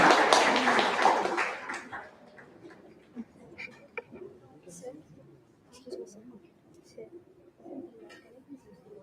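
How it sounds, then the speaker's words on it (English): Applause from the audience at a debate competition for a candidate, loud for the first two seconds and then quickly dying away, followed by scattered taps and a quiet room with faint talk. "Let's give a big round of applause for the candidate one."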